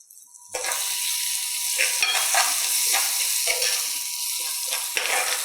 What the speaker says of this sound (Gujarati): આપણે થોડીક અનિયન નાખીશું. અનિયન નાખીને થોડીક ચડવીશું.